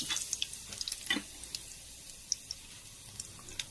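Mustard seeds crackle and sizzle in hot oil in a pan, with scattered sharp pops over a soft hissing bed, close and fairly quiet.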